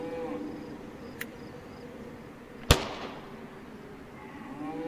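A pistol fires once in a video game with a single sharp, loud crack, after a faint click earlier and over a steady low ambient hum with insect-like buzzing.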